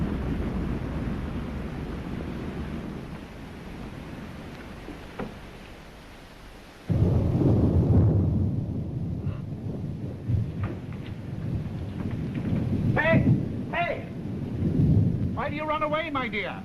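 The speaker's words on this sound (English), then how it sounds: "Thunder." Thunder during a rainstorm: a soft rumble under the rain gives way to a sudden loud crack and a long rolling boom that fades slowly, while voices speak over the later part.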